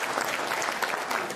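Steady applause from a crowd, dense clapping throughout at an even level.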